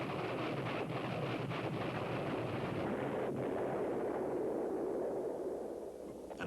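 A cruise missile warhead scatters multiple bomblets, heard as a sustained, rumbling roar of distant explosions with a few sharper bursts early on, fading slightly at the end.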